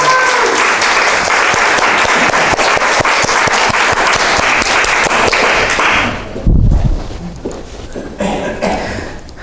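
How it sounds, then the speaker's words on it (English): A church audience gives loud, sustained applause that holds for several seconds and then thins out into a few claps and coughs. "Let's give them another round of applause"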